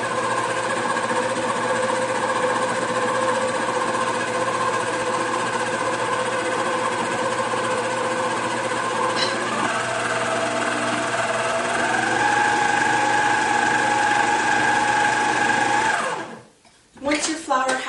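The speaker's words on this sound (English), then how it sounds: "You always want to make sure when you are adding flour that you start on a low speed" An electric mixer churns flour on low speed for cheesecake brownie batter, a steady close whirring drone that shifts slightly in pitch before stopping near the end.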